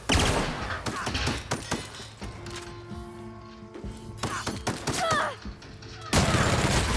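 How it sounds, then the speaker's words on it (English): Bursts of machine gun fire in The Outer Worlds shooter game, several loud rapid volleys at the start and end with quieter stretches of tonal game music and effects between. "Took his arm off with a machine gun."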